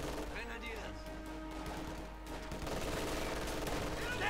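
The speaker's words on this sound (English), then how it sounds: "out in the open versus the MG42 in the church" MG42 machine gun fire in the video game Company of Heroes 2, a dense crackle of battle gunfire running under a commentator's continuous talking.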